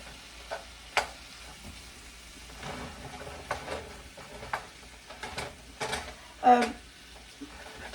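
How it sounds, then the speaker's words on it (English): Venison browning in a pan with onions and garlic gives a soft, steady sizzle, broken by occasional sharp scrapes and clacks of a utensil stirring the meat. "All we're doing is just browning the meat now that the onions and the garlic are somewhat okay."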